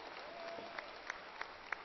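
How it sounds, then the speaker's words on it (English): A crowd claps steadily at a university commencement ceremony at Angelo State University, a soft, distant wash of applause with a few sharper claps standing out. "You need to be applauding when your graduate comes across this stage here"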